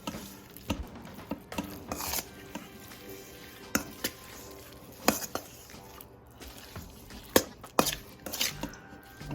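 Seasoned vegetables with garlic and oil are tossed in a bowl for a Thai-inspired spring roll bowl, producing irregular close clacks, scrapes and rubbing thuds of utensils against the bowl.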